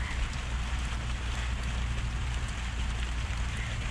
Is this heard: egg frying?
no